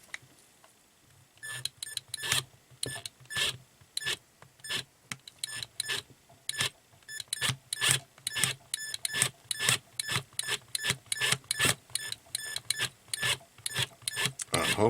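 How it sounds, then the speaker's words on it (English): A screw being driven into a Commodore 64 Mini joystick, dozens of short, sharp ratcheting bursts repeating in quick, uneven succession, close and fairly crisp. "Now let's try to drive that screw in again."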